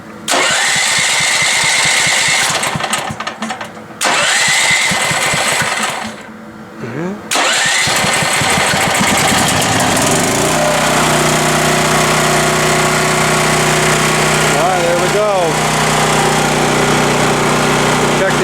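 Champion 41532 portable generator engine cranked and catching after the fuel is turned on, starting with a loud rough rattle, briefly dropping, then settling into a steady close running drone with a low hum.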